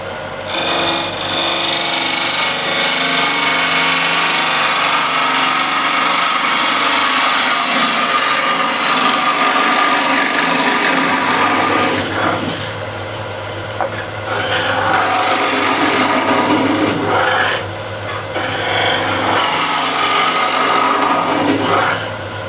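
A bowl gouge cuts into a spinning wooden bowl on a lathe, producing a loud, continuous rasping shear with a couple of brief breaks as the tool lifts away, with no talk.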